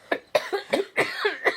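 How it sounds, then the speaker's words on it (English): A quick run of raspy coughs, several bursts in a row, loud and close with no talking. "it got us into coughing fits"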